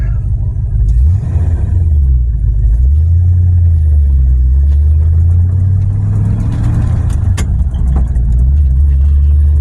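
A farm truck drives along, its engine droning in a loud, steady rumble that rises and falls as it accelerates and shifts, heard from inside the cab.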